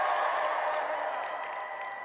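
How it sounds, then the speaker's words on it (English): A large crowd at a graduate commencement ceremony cheers and applauds, a dense, loud, sustained roar of clapping and voices with a few whoops on top. "Can I hear some cheering?"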